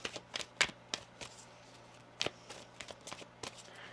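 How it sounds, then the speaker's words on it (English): Sharp, irregular tarot card riffles and soft slaps, a few quick bursts of shuffling in a quiet room. "One more shuffle."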